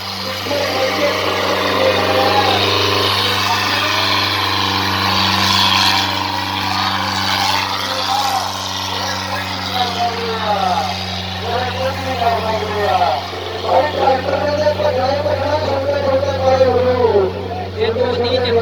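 A tractor engine drones steadily and close at a rural tractor contest, a low constant hum running the whole time beneath lively overlapping talk from several men.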